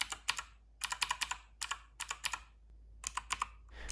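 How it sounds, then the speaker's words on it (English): Keychron K2 mechanical keyboard on a desk, typed in short clusters of crisp, loud clicky keystrokes with brief pauses between bursts, heard close up with no talking. "I like these keys because they have a really good loud click to them."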